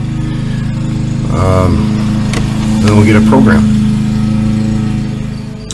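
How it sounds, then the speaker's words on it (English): Lawn mower engine passing by outdoors, a loud steady droning hum that swells and fades as it moves, with someone talking over it. "let the lawnmower go by a few more times so you can hear me"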